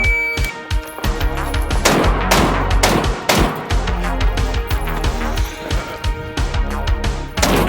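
Loud, rapid gunfire from a modified SKS rifle and other guns at a shooting range, overlapping shots fired in quick succession with sharp reports throughout.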